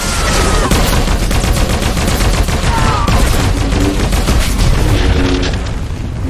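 Explosions and blaster gunfire fill a Star Wars video game operation, a 16-player story-mode raid in the Dread Fortress, with dense overlapping booms and rapid shots continuing loudly and without pause throughout.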